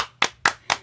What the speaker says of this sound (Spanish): Un aplauso para Nevai, Miss